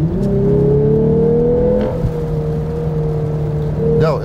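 A 2021 Lexus IS F Sport in Sport Plus mode revs hard under full acceleration, its engine note rising in a loud, steady growl before a gear change, with a voice talking over it.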